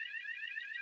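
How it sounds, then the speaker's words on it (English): A fire alarm sounds in a continuous, piercing high-pitched electronic tone, steady and unbroken through the short stretch, with no voices over it. "Now we've got a fire alarm."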